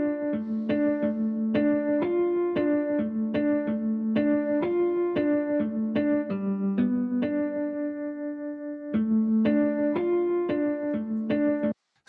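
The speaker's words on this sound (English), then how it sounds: "There's like another steel guitar out of Omnisphere that I've played." A steel guitar played from an Omnisphere software instrument picks out a bright melody of plucked notes in a steady rhythm, one longer held note in the middle, clear and alone before a sudden stop.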